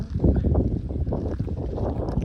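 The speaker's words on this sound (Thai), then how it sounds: "ลมมาเลยนี่พี่น้อง ลมมาแล้ว" Strong wind gusts roar steadily across a microphone outdoors at night, a loud, broad rumbling buffet that never lets up for the whole stretch.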